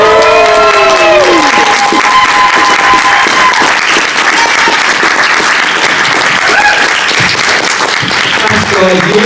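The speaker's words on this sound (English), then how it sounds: "you can all start cheering and clapping and making a lot of noise" A live audience at a Star Wars Celebration Europe 2023 podcast taping cheers and claps loudly and steadily for about nine seconds, with whoops and crowd voices rising over dense, continuous applause.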